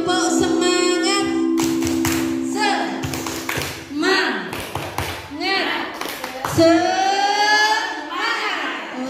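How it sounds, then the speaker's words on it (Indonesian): A group of parents and teachers at a school meeting performs the rhythmic tepuk semangat clapping chant, with patterned claps and voices chanting over them, close and lively. "sekali lagi ya Bapak Ibu, tepuk semangat"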